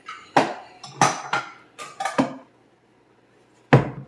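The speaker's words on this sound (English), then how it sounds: "I'm going to get me a bowl" Bowl being taken out and handled in a home kitchen: a run of sharp ceramic clinks and knocks in uneven bursts, close and crisp, a short pause, then one more clatter.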